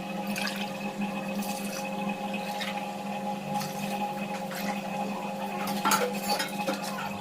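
Three tumblers of water are poured into a cooking pot for chicken biryani: a steady, soft watery wash with faint metallic clinks of the pot and vessel, close by.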